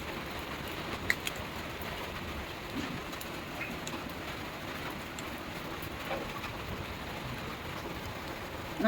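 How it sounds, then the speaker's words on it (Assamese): Rain falls steadily in wet weather, a soft, even patter heard faintly from a distance, unbroken and without any voices. "বৰষুণৰ বতৰ"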